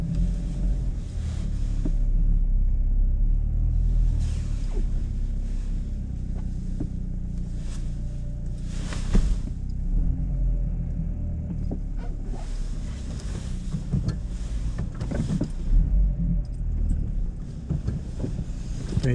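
A car rolls slowly into a parking space in England, a steady low engine and road rumble close to the microphone with occasional wind buffeting and faint bumps, continuous throughout and no talking.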